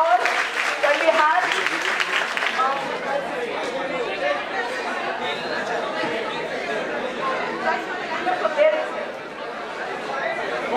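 A school audience at an inter-school event claps and cheers for the winning school, Delhi Public School Ruby Park, loud applause and crowd chatter throughout, a steady mass of clapping with voices mixed in.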